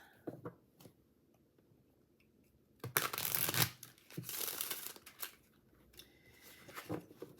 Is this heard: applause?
no